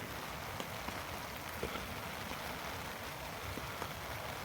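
Steady, dense rain patters on surfaces around a woodland camp during a wet, windy stealth camping hike on Fan Fawr, a constant hiss with faint scattered drips and no voices.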